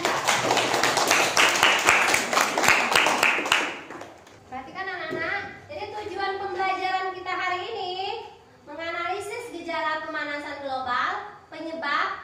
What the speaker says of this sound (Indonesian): Yuk, beri aplaus untuk mereka.